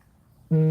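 A midwife goat on a homestead lets out a single short, loud, nasal bleat that breaks abruptly out of near silence and is cut off quickly.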